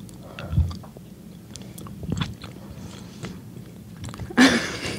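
Caramel-filled Ghirardelli chocolates bitten and chewed up close, soft crunching and smacking throughout, then a loud brief rustle near the end.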